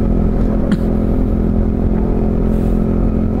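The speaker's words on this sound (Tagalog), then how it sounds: "Ayan, may motor sa harap" A motorcycle engine drones steadily on the road ahead during a dark early-morning drive, a constant low hum with a faint clatter and no voices.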